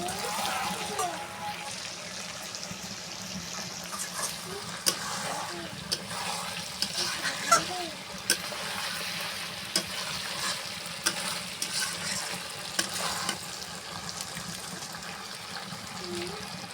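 Duck meat with cumin paste frying and being stirred in a pan on a rainy day, a steady low sizzle broken by occasional spoon scrapes and clinks, with faint background murmur.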